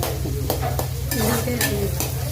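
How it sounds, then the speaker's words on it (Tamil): Onions frying until golden brown for a Tamil sardine fish kulambu, stirred with a spoon in a pan: steady close sizzle with scraping strokes at a loose, uneven rhythm, no voices. "வதங்க வரைக்கும் கிண்டிக்கிட்டே இருக்கணும்."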